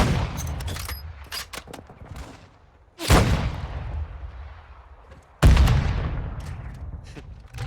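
Two loud, sudden booming explosions in Warzone Mobile a couple of seconds apart, each with a long rumbling decay, following a burst of sharp gunfire.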